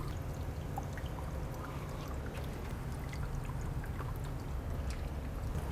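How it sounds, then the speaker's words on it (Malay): An ultrasonic humidifier making mist for watering mushrooms sits in a container of water, giving a steady, continuous splashing and trickling wash with fine droplet spatter, close and unbroken throughout. "Semasa menghasilkan wap air, humidifier ni juga akan menghasilkan percikan air macam ni."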